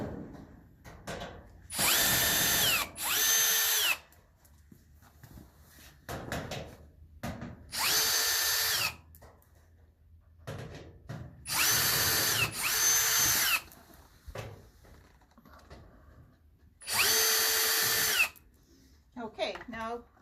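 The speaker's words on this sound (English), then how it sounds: "So I'm going to remove all the screws." A power drill backs screws out of a used stove's back panel, whirring in four loud, separate bursts of a second or two each, with quiet handling noise in the pauses between them.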